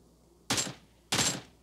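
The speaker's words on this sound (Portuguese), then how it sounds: "Opa, deu um tiro nele." Two sharp gunshots from the mobile battle-royale game PUBG Mobile, spaced about half a second apart, each a loud broadband crack with a short decaying tail over a quiet background.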